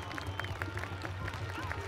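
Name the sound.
audience applause at winter customs festival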